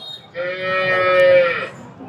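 A cow at a busy cattle market in Poigai, near Vellore, gives one drawn-out, tonal moo lasting over a second, clear and fairly close above a low background murmur.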